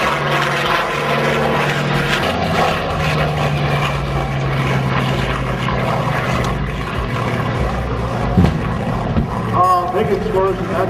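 A Douglas A-1 Skyraider propeller aircraft passes at an airshow, its loud, steady piston-engine drone filling the clip with a slight swell near the end, while an announcer's voice runs over it.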